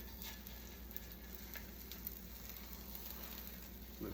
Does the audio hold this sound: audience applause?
no